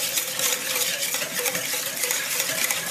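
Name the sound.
whisking sauce with Worcestershire sauce and salt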